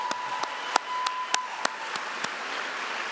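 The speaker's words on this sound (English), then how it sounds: "can we applaud for them?" Sparse, evenly spaced hand claps from a small audience at a poetry reading by Ada Limón, fairly quiet against a faint room hiss and a thin steady tone.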